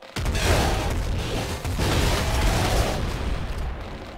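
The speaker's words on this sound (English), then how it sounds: "I'm just gonna launch nades like crazy in there." Grenades launched and exploding in a video game make a burst of booming blasts and rumbling detonations. One sharp explosion at the start is followed by a second heavy wave midway, then a rolling decay.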